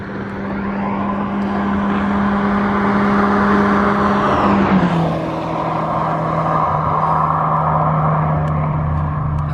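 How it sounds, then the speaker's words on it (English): A car driving past at night on a dark road in Bristol, its engine rising loud and close, then dropping in pitch as it passes and fades, with no one speaking. "Got another car coming."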